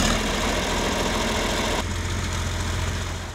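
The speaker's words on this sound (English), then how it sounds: "We have behind us a 1972 John Deere 4020 Power Shift" A 1972 John Deere 4020 Power Shift tractor engine idles loud and close, a steady low rumble that shifts tone slightly halfway through and then eases off a little toward the end.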